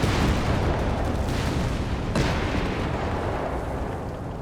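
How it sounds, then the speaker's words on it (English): Incendiary carpet bombing in the strategy game Company of Heroes 3 rumbles as a heavy, continuous roar of overlapping blasts, loud and dense from start to end with one sharper crack partway through. "As for Janko, we do get the incendiary carpet bombing."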